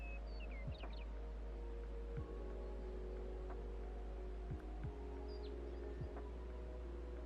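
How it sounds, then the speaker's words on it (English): Distant trees rustle in the wind as a soft, steady wash of broadband white noise under a low constant hum, with a few faint bird chirps and light clicks scattered through it. "just the trees in the distance going all white noisy"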